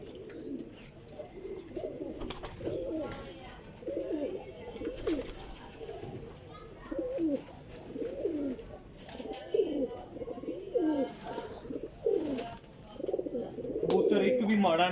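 Racing homer pigeons of high-quality flying stock coo steadily in throaty, rolling bursts throughout, close and fairly loud, with overlapping calls and a voice talking at times over them.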